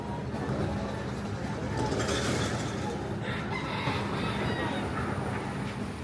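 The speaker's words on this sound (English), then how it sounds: "You can hear the roosters going crazy." Roosters crowing and clucking in Key West, a noisy street scene where fowl calls come through under steady traffic rumble and a passing tourist train, with people talking nearby.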